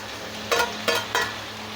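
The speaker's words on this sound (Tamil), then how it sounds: "இப்போ தக்காளி போட்டு நல்லா மிக்ஸ் பண்ணணும்." Tomatoes being stirred in a frying pan for fish head gravy, giving three quick scraping strokes over a soft, continuous sizzle, close and fairly quiet, with no voices.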